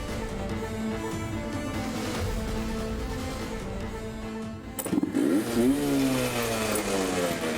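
A motorcycle engine idles with a steady rumble, then revs up and pulls away, the pitch rising and falling close by.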